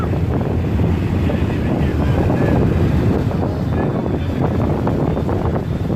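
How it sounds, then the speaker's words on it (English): Strong outdoor wind buffets the microphone in a steady, loud, low rumble that stays unbroken throughout and covers everything else. "I don't think the wind is that bad, but I mean, it's loud."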